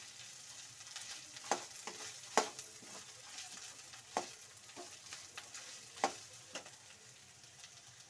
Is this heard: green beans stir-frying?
yes